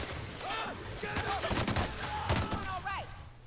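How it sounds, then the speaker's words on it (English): Rapid gunfire from a weapon in The Outer Worlds video game crackles in a dense, continuous volley, loud and close, with whooshing sweeps and brief voice sounds mixed in. "Yeah, this gun shreds."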